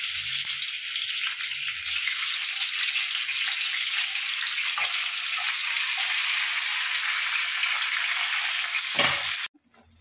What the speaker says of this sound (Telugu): కట్ చేసి పెట్టుకున్న టమాటా ముక్కల్ని నూనెలో వేయాలి